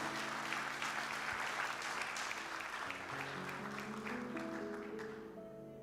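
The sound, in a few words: church congregation applause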